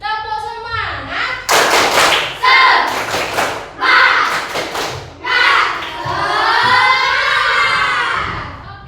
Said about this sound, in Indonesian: Coba sekali lagi. Tepuk semangat.